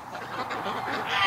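Ducks calling near a winter creek, a close run of loud nasal honking calls that grows slightly louder toward the end.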